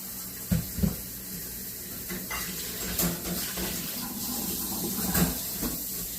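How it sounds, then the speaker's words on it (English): Water poured into a cooking pot in a kitchen, a soft steady hiss of running liquid with a few faint clunks, quiet and close. "to add some water"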